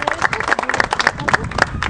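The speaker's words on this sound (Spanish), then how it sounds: "también un aplauso" Applause from a crowd at a municipal inauguration of a retaining wall, with sharp individual claps standing out in an uneven rhythm and a voice talking faintly beneath.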